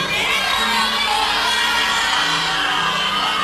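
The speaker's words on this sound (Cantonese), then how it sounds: "你哋嘅歡呼聲，你哋嘅叫聲，" A large concert audience at a farewell stage show cheers and shouts continuously, a dense, loud wall of screams and whoops from a packed crowd that holds steady throughout without dropping.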